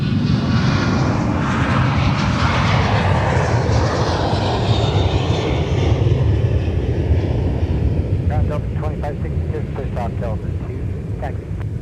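Boeing 737-900 airliner at Minneapolis–St. Paul airport, a loud continuous jet engine roar with broadband rumble that holds steady throughout, wind buffeting the microphone, and brief chirpy sounds near the end.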